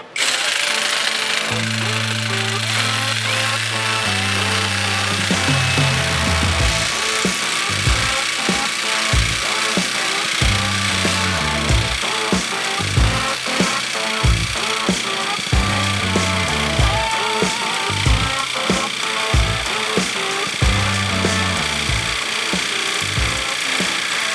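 A Revolt cordless jigsaw, a Makita copy on an 8 Ah battery with a slightly dull blade, saws through 20 mm square metal tubing. The close, loud motor buzz carries a steady rattling, choppy cutting rhythm throughout.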